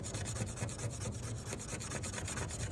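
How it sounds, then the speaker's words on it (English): Fine 1200 grit sandpaper rubs steadily in quick, even back-and-forth strokes, a soft close rasping with no voices. "we've got to sand it with some sandpaper. I'm beginning with 1200 grit paper"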